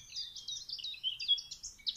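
Birds sing outdoors in a quick run of high, bright chirps and warbles, fairly close and continuous, with a faint low hum underneath and no voices.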